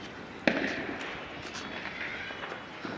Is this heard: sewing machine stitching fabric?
no